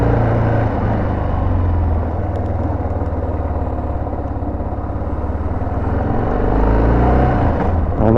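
A motorcycle engine rumbles steadily as it rides along, a continuous low drone with slight swells in revs and no talking.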